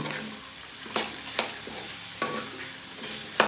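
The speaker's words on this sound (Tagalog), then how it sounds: "Then pwede natin itong haluin." Pork pares with star anise stirred in a hot pan, a steady sizzle broken by several rhythmic scraping strokes of the spoon, close and clear.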